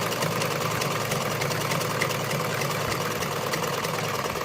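A sewing machine runs continuously, stitching close along the edge of a blouse, with a steady, fast mechanical rattle and hum at close range and no pauses.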